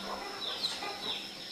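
Several Guinea fowl cluck and chatter softly at close range while being fed mixed bran, with short overlapping calls over a faint background hum.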